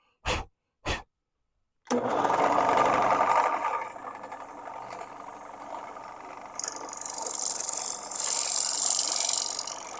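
A wood lathe hums close by as a tool cuts shavings from the spinning wood, the rough scraping and whirring steady after two short knocks at the start, growing brighter and harsher toward the end.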